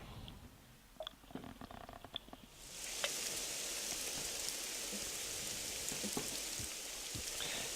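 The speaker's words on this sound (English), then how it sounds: "It's raining." Steady rain in the video game Sunset Over Imdahl fades in after a few quiet seconds with scattered clicks, then settles into a constant, even hiss of falling drops.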